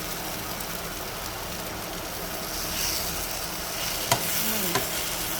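Banana flower and moong dal curry frying in a pan, a steady dense sizzle with soft crackling throughout and a couple of faint utensil taps near the end.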